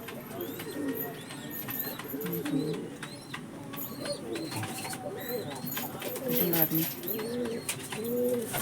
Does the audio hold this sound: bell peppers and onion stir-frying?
no